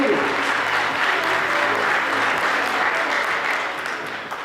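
A crowd at a youth volunteer forum at a university in Buryatia claps loudly and continuously, a thick wash of applause that holds steady and tapers off near the end.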